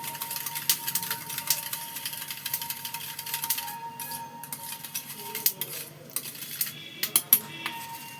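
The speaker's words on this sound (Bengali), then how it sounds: "দেখো ভালো করে এটাকে আমি ফেটিয়ে নিচ্ছি, মিশিয়ে নেবো" Ingredients for a pointed gourd and prawn pulao are whisked and mixed in a bowl, giving irregular metallic clinks and taps of utensil against the dish, growing sharper and more frequent toward the end, heard close with no talk.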